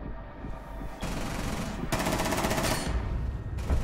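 Rapid bursts of automatic gunfire in a shooter video game, with sustained rattling volleys and brief gaps between strings of shots, fairly close and dense.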